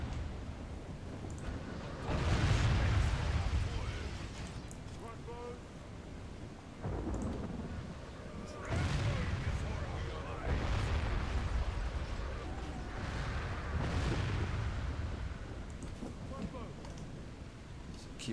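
Gunfire and artillery in the Warhammer battle game Call of Warhammer, heard as a dense, rumbling roar of massed shooting and distant blasts that swells and fades in waves, with someone talking over it.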